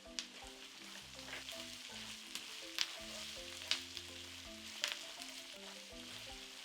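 Garlic, ginger and chopped jalapeno fry in a pan with a soft, steady sizzle and occasional crackling pops, faint and close, under a quiet musical background.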